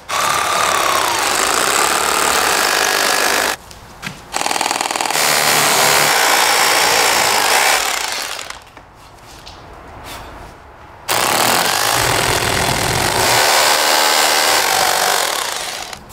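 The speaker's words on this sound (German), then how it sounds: "Und jetzt die Löcher im Mauerwerk bohren." A power drill bores holes into masonry while a patio door is being replaced, giving long loud grinding bursts separated by short pauses, with no talk.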